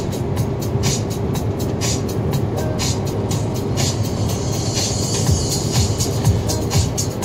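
A KamAZ truck drives along after dark, heading slowly toward a quarry on the road, giving a steady, continuous low engine rumble and road roar close by with no pauses.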